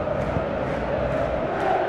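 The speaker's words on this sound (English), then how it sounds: "expectations are rising and decibel levels are rising. The noise is quite something." A capacity football stadium crowd at a Champions League match between Borussia Dortmund and Paris Saint-Germain makes a dense, continuous roar of massed voices, loud and unbroken throughout.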